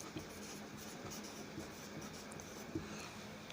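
Soft, faint scratching of a pen moving over paper, steady with a couple of light taps, close and quiet with no voices.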